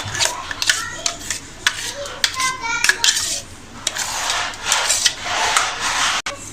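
Ground spinach and masala paste go into a pan for palak paneer, with metal utensils clinking and scraping against the pan in quick, uneven bursts while a person talks.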